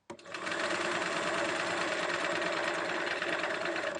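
A sewing machine edge stitches a fabric hem, running in one continuous fast, even whirring and clattering burst after a short start, close and steady throughout, with no voices.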